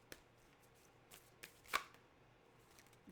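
A deck of tarot cards is shuffled quietly at close range, with a few soft flicking riffles and one sharper snap in the middle, faint overall and with no voices.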